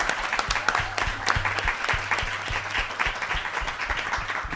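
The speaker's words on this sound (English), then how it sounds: "Let's just give them a round of applause" An event audience applauds a panel at an El Gran Combo celebration, loud crisp handclaps close by with sharp individual claps standing out over the sustained crowd clapping.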